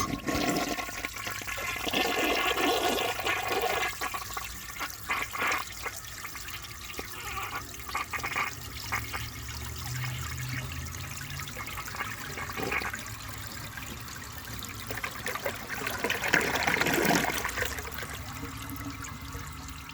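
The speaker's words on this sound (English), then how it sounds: "let's see how it flushes with a clogged siphon jet" A 1953 AllianceWare toilet with a clogged siphon jet flushes, a loud rushing and gurgling swirl of water that runs on with surges and trickles, nearly cycling twice, with no talking.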